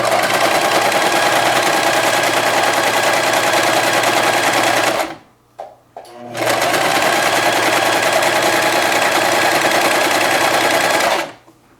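Sewing machine stitching a quilted mug rug, a loud steady whirring run of about five seconds, a brief stop with a couple of quick bursts, then another long continuous run before it cuts off.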